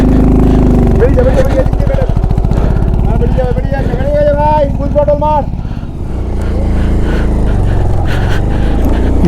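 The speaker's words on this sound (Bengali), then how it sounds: "বাইকের পাওয়ার ল্যাক করছে।" A motorcycle engine labours loudly on the steep climb toward Sandakphu, a dense close throbbing drone with shifting pitch that dips briefly, while a voice talks over it.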